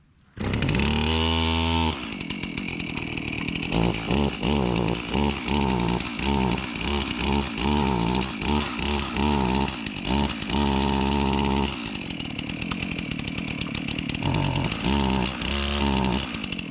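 A chainsaw felling a tree on an off-grid homestead runs loud and close, starting with a rising rev, then cycling through repeated throttle bursts and dips as it cuts, with an uneven rhythm from a saw acting up.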